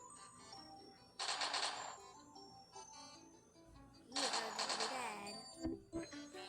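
Two bursts of rapid automatic gunfire, a couple of seconds apart, crackling loudly over a quieter game background with faint voice.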